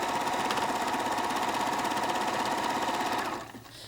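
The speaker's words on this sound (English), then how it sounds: "We then just place it underneath the presser foot and begin stitching." A White Model 9800 sewing machine runs steadily while stitching a zigzag hem, its fast rhythmic needle clatter loud and close, then slowing and fading near the end.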